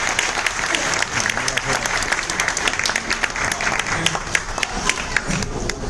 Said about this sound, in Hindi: एक बार जबरदस्त तालियां सर के लिए।